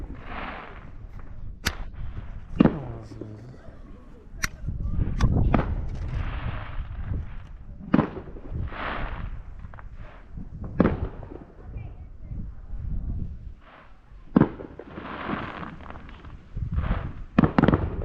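Fourth of July fireworks burst over Boise with a string of sharp bangs and crackles at varied intervals, some booming and distant, while people talk intermittently in the foreground.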